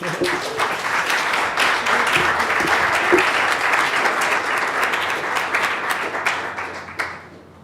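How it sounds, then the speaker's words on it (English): An audience at the NYC Mesh State of the Mesh 2018 gathering gives a round of applause: a dense, even clatter of many hands that tapers off and fades out near the end. "You can give them a round of applause."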